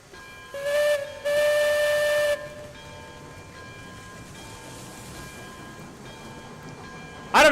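A steam locomotive in the Railroads Online video game gives two loud whistle blasts, one short and one long, then chuffs and rumbles along steadily beneath them, with another sharp whistle burst at the very end.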